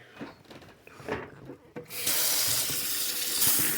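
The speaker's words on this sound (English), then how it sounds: "Get some cool water on it." Cool tap water gushes steadily over strained macaroni in a sink after some quiet rustling and clatter, a loud continuous rush with no talking.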